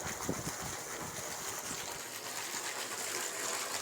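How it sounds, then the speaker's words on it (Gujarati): River water rushes and gushes steadily nearby, a broad continuous wash outdoors with slight fluctuations and no talking. "આ છે નદી"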